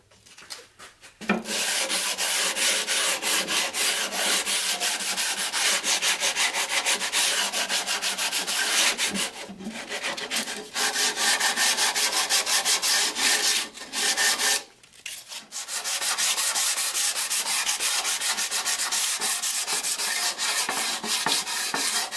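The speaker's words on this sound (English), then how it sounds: "ready for sanding and then" Steady scratchy sanding of a cherry wood frame, long continuous strokes with a few short pauses, close and fairly loud with no talking.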